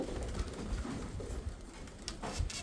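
Soft cooing of Mykolaiv pigeons rises and falls amid low rumbling background noise, with a couple of brief sharper sounds near the end.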